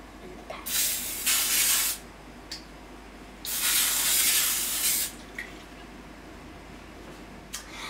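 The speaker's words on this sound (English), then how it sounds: "Now you put olive oil spray into the pan, a little bit of oil in the pan." Olive oil cooking spray hisses into a pan in two sustained bursts of about a second each, close and steady, with small clicks of the can between them.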